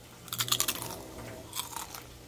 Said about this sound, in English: I just want you to hear the crunch factor